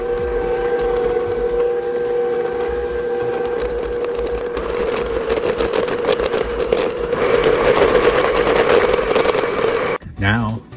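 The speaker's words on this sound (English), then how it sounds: "Now we're just going to mix this well." Chocolate chip cookie dough is mixed with vanilla in a bowl, a steady whirring electric mixer drone running throughout before cutting off near the end.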